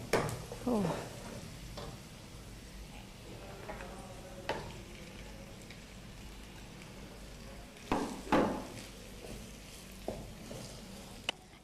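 Rice goes into a pan and is stirred, giving quiet scraping and clinking of a utensil against the pan in a few separate bursts over a faint, soft background sizzle.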